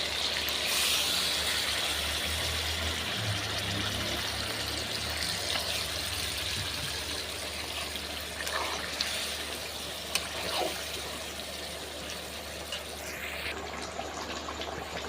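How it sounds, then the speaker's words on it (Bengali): A little water is poured into a pan of chicken kosha mangsho, a soft, close trickle and splash that gives way to quiet, steady simmering. "এবার দিয়ে দেবো সামান্য জল।"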